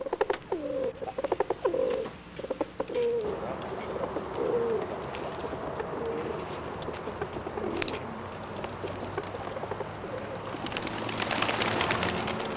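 Pigeons coo near their south-facing loft in open air, a few soft low murmuring coos early on, then a steady outdoor bed of rustle and faint chirps with no talk.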